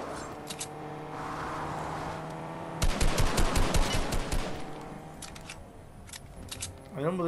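Video-game gunfire aimed at the player, a sharp rapid burst of automatic shots partway through, loud and close against a steady game background, with a voice talking over it.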